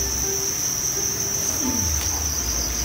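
Crickets in breeding trays on a cricket farm chirp with a steady high shrill that holds throughout, joined by faint background rustling and low rumble, with no voices.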